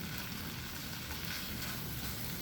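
Flour and oil cooking together for tuna gravy make a continuous, close crackling sizzle, even and unbroken with no voices.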